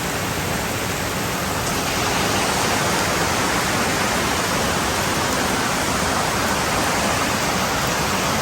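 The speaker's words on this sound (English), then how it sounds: "Oh my goodness, it's raining." Heavy rain falling outdoors during a storm, a dense, continuous broadband hiss that stays loud and steady throughout, with no voices.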